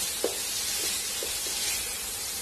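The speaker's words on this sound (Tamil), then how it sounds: "ஒரு 5 நிமிஷம் இப்படியே நம்ம இந்த எண்ணெயில நம்ம கிரில் பண்ணிக்க போறோம்" Paneer tikka with its marinade grilling in oil in a pan, a steady close sizzle and hiss throughout, with a few soft stirring scrapes in the first half and no talk.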